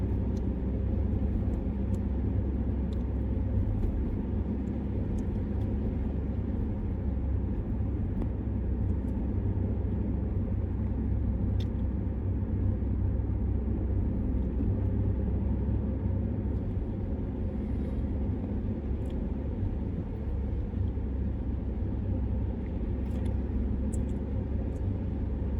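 Steady car engine and road rumble from inside a vehicle gradually picking up speed on Buckingham Road during a driving test, a continuous low drone with no talk.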